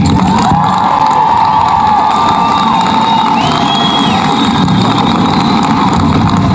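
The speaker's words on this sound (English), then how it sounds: "Let's give him another round of applause." A large crowd at a high school graduation ceremony cheers loudly and steadily, with shouts and whistles above a continuous roar, all at close range and strong throughout.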